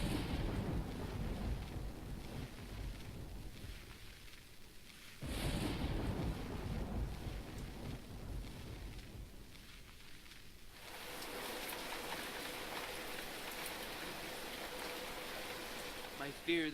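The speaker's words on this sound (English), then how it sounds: "a terrible storm began to rage, washing away the sound of my footsteps" Rain and rolling thunder from a raging storm in the Nancy Drew game Secret of the Old Clock, a steady wash of rainfall with low rumbling swells and a sharper crack near the middle, continuous throughout.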